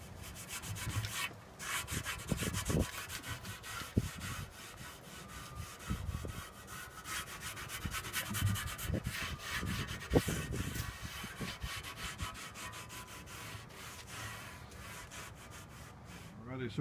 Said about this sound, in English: now I'm going to start the acetone process, get the surfaces really clean